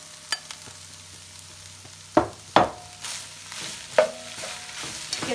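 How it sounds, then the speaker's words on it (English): Hamburger meat with tomatoes and jalapeno being stirred in a pan for spicy chili, with a few scraping thumps of a utensil over a faint steady sizzle, close by and without talk. "this I'm going to put in with the hamburger and kind of saute it"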